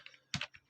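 Several quick keystrokes on a computer keyboard during coding, a soft isolated cluster of clicks with one louder double tap in the middle, close and faint, with no voices.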